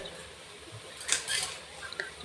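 Metal utensil scraping and clinking against a pot while mutton is stirred with masala for biryani cooked in an idli pot; a few short, moderately loud scrapes cluster near the middle, with quieter clinks afterward.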